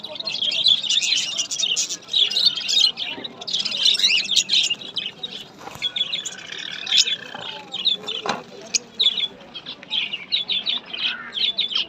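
Dense, continuous chirping and twittering from many caged birds, pigeons among them, fills the Beldanga bird market in Murshidabad, loud and close, with occasional clucks, wing flaps and people talking underneath.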